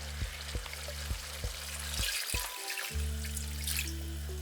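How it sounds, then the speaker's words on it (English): Water poured into a pan of caramelized pork with bamboo shoots, with sizzling and splashing over a steady kitchen hum, quiet and close, with no talking. "now I'm gonna add a little bit more water"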